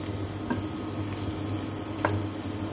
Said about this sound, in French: je vous présente ma viande de bœuf qui s'appelle jarret de bœuf, que je mets dans ma casserole